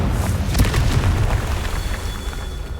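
A Confringo fire spell explodes in Hogwarts Legacy, a sustained rumbling boom with a noisy, crackling body that holds steady for nearly three seconds, loud and alone.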